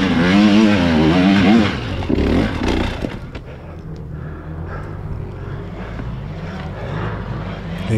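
A 2025 KTM 300 XC dirt bike engine revs hard and high at first, then drops to a lower, wavering drone as it keeps running nearby.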